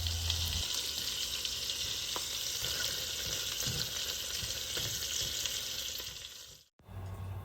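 Sausages for a Cajun 15 bean soup sizzle and crackle steadily in a hot pot, a loud continuous frying hiss with a brief dip near the end, no voices.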